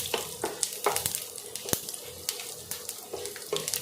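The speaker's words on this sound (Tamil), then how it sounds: "எல்லாம் நல்லா பொரிஞ்சு வரட்டும்." Fennel seeds and spices crackle and sizzle in hot oil for pepper chicken, with scattered sharp pops and a few louder stirring clicks over a steady frying hiss, with no talking.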